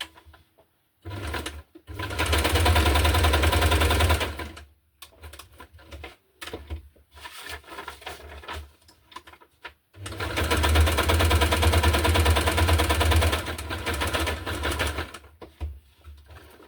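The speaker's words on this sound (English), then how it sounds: "We only need a bit of stitching over here." A sewing machine stitching through a hardcover junk journal, running in two long bursts of fast rhythmic stitching separated by quiet pauses and small handling sounds, close and loud.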